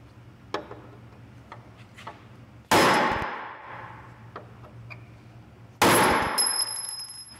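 Rivets are hammered into a Porsche 356 door panel. Two heavy, ringing metal strikes land about three seconds apart, with lighter taps and clicks in between. The sounds are near and there is no speech.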